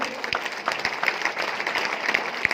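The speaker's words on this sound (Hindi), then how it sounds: "हम चाहेंगे इन तीनों अचीवरों के लिए एक बार हाथ उठकर जबरदस्त तालियां आप लोग बजा दें।" An audience applauds three achievers at a success celebration, a moderately loud patter of many hands with a few sharper individual claps standing out near the listener.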